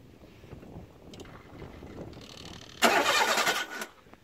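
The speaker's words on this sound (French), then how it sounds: "t'en mets vraiment un tout petit pour voir si le démarreur il tourne" The starter motor of a Peugeot 206 with a freshly rebuilt engine cranks in a garage, a brief loud burst of about a second following a few seconds of quiet rustling.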